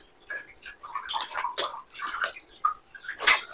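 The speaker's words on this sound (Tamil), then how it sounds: "இப்போ கொஞ்சமா தண்ணி ஊத்திக்கோங்க. மிக்ஸி ஜாரை கழுவி ஊத்திடலாம்." Water poured into a mixer grinder jar to rinse it, faint irregular splashing and gurgling in short bursts, close by.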